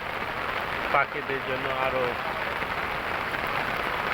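Heavy morning rain pours down over Dhaka as a steady, even wash of patter, while a person speaks briefly over it.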